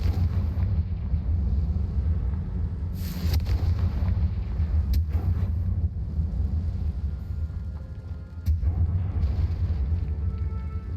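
Confringo fire-blast spell in the video game Hogwarts Legacy, heavy blasts with a thick low rumble throughout and sharp bursts near three and eight seconds, loud and close.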